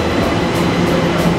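A Japanese commuter train around Nihonbashi, Tokyo gives a loud, steady rumble of car and wheel noise with a constant mechanical hum and faint rhythmic swells, no voices present.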